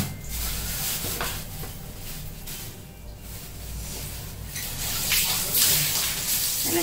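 Vegetables are washed under running water, a steady splashing gush with rubbing and brief handling noises, close by and fairly loud.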